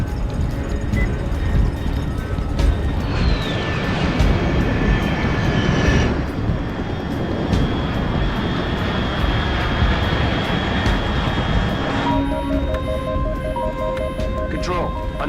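Aircraft roaring overhead at high altitude in the video game Metal Gear Solid Delta: Snake Eater, a loud, continuous engine drone with a passing whoosh under a dense cinematic mix, with faint electronic beeps near the end.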